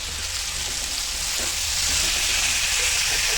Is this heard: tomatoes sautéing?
yes